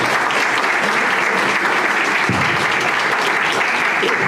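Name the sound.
audience applause for a priest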